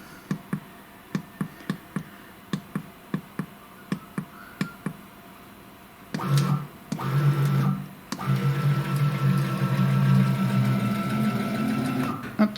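Stepper-driven axis motors on a CNC router, run by an SMC5-5-N-N controller, first tick in a slow, even series of sharp pulses, then after a short gap switch to a louder, steady whirring hum that runs on continuously.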